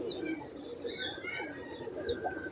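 Pigeons coo softly on a Lahore rooftop loft, low murmuring calls layered over faint chirps and ambient rooftop noise, no talking.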